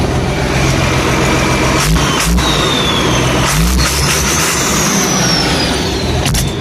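A 220 hp tractor running with an implement attached at about 1500 rpm, a steady loud engine drone close by with a few brief mechanical knocks and surges.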